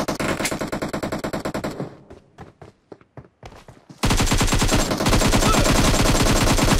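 Automatic weapons fire in the battle-royale game PUBG, with loud, rapid continuous bursts, then a stretch of separated single shots, then sustained heavy fire again.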